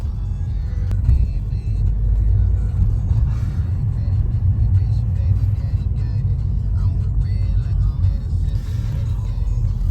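Car on a lap of the Castle Combe racing circuit, heard from inside: a steady, loud low engine and road rumble that holds at an even level throughout.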